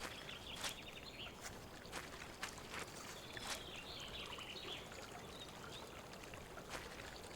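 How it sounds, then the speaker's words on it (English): Faint, steady rush of creek water flowing in a video game, with soft trickling and a few clicks and chirps scattered over the continuous stream. "Wow, we got a creek here."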